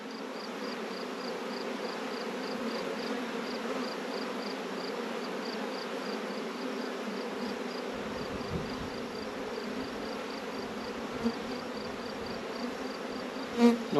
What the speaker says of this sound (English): Gets those bees moving quicker than I would like.